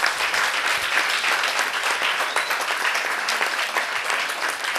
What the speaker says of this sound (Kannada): ಚಪ್ಪಾಳೆ ಮೂಲಕ ಪ್ರೋತ್ಸಾಹ.